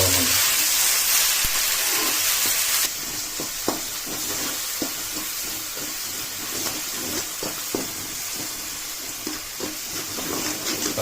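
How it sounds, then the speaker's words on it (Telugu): Gongura leaves frying in oil for gongura chicken, a steady hiss and sizzle with repeated spatula scrapes and stirring taps close by. "ఇది బాగా వేయించుకోవాలి ఇది వేయించిన తర్వాత అది బాగా వేగి ఎడకనిచ్చుకోవాలి"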